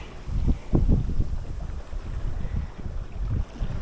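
Wind buffeting a microphone aboard a Deinemeid H55 sailboat on flat water, a steady low rumble with gusty thumps and a faint hiss, no voices.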